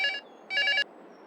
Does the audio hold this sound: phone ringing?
yes